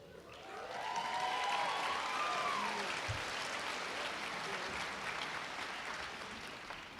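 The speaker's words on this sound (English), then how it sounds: "the students cheer that line the loudest every year" Graduating students at a May commencement ceremony at Central Methodist University break into loud sustained applause and cheering that swells quickly and holds for several seconds, filling the hall.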